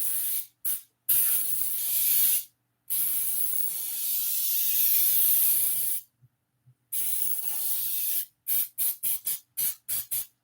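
Aerosol spray from a shaken can hissing onto a cast iron pan in bursts: several long sprays, then a rapid series of short puffs, loud and close with no talking.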